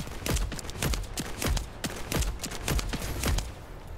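Rapid bursts of pistol fire in the shooter game The First Descendant, a dense string of sharp close shots with a few louder cracks standing out, steady and unbroken, with no talk.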